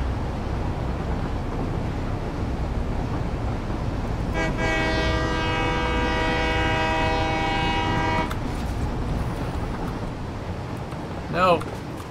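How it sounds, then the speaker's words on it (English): Trains in the Satisfactory video game rumble steadily while a long, loud horn blasts for several seconds midway, followed by a brief second horn near the end. "Dueling trains."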